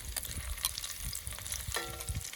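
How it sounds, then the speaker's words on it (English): Rosemary molasses bacon sizzles in a pan as it is flipped for a breakfast sandwich, a quiet crackling fry broken by a few sharp scrapes and clicks of the turner against the pan. "we're gonna flip this bacon one more time"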